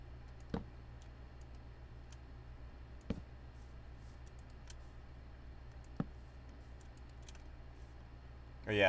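Sparse computer mouse clicks while playing the JurassiCraft mod in Minecraft, a few isolated sharp ticks spaced seconds apart over a quiet background hum.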